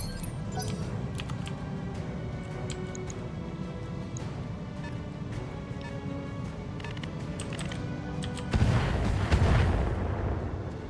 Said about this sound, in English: they're firing indirectly. All we have is indirect fire.